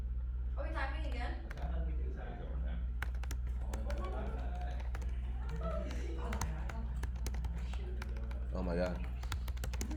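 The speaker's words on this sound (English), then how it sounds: "Are we typing again?" Rapid computer keyboard typing during a typing race, a dense run of sharp key clicks that starts in earnest partway through, close and clear under a voice speaking briefly, over a steady low electrical hum.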